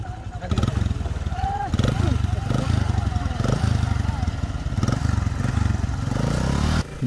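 A motorcycle engine rumbles close by as the bike is ridden onto a wooden river ferry boat at a village crossing, with steady chugging and a few revs, and voices faintly beneath it.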